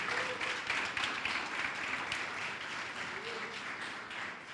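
A church congregation applauds in a broad, steady wash of clapping that fills the room evenly and fades slightly toward the end, moderately loud and without clear individual claps.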